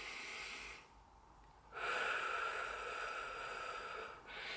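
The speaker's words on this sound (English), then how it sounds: "breathe in through your nose and out through your mouth" A person breathes slowly and audibly, in through the nose and out through the mouth, as part of a calming breathing exercise. One breath is drawn in, then a long, steady exhale follows, close and alone.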